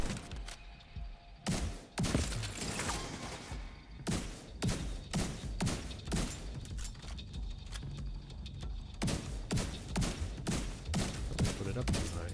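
Bursts of turret gunfire in a video game, a steady run of sharp, loud shots in quick clusters, each burst separated by short pauses.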